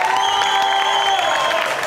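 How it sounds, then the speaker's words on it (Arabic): A studio audience at a televised game show applauds and cheers for winning contestants, a dense, loud wash of clapping with crowd noise and a steady musical tone underneath, sustained throughout. "عطونا تصفيق عليهم"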